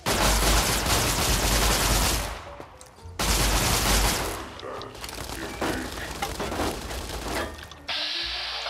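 Gunfire in Fallout: New Vegas, with loud sustained bursts filling the first two seconds, a brief lull, then another heavy burst and scattered shots and impacts that fade toward the end.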